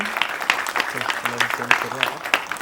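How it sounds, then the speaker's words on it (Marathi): Audience clapping for the producers at a Marathi film trailer launch event, a steady patter of applause from the crowd with a voice speaking over it. "एकदा जोरदार टाळ्या प्रोड्युसर्स साठी."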